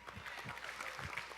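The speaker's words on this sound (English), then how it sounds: "Give yourselves a round of applause for that." A crowd claps and applauds steadily, with a voice faintly audible underneath.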